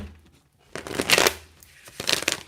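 Two bursts of riffle-shuffling cards, each a quick crisp flutter of paper lasting about half a second, close by in a quiet room.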